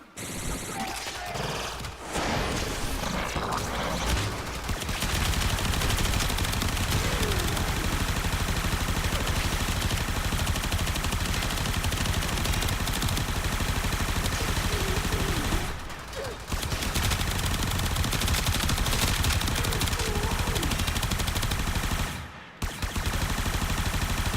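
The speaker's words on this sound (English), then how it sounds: "I'm used to this thing firing like a Gatling gun" A Mag weapon in a video game fires in long, dense, Gatling-like bursts, loud and continuous with a couple of brief pauses.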